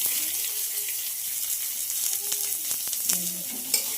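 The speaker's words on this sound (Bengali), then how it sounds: "পেঁয়াজটা একটু ভাজা ভাজা হবে" Steady sizzling of onions frying in a pan, with occasional clinks and stirring scrapes, close and moderately loud.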